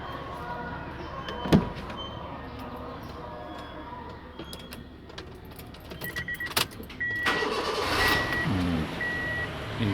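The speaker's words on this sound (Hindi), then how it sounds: "इंजन का साउंड तो बहुत ही" A 2014 Honda City engine idles steadily nearby, with a few clicks and a door-like thud, then a rhythmic electronic beeping joins in toward the end.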